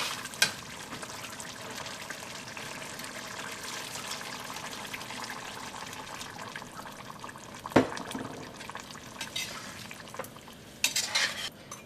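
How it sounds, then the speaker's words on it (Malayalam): Coconut milk poured into a simmering Kerala green peas masala curry with half-cooked potatoes, heard as soft liquid stirring and bubbling, with a few sharp clinks of a spoon against the pot. "ഉരുളക്കിഴങ്ങൊക്കെ പകുതി വേവായിട്ട് ഇതിലേക്ക് നമുക്ക് തേങ്ങാപ്പാൽ ചേർക്കാം."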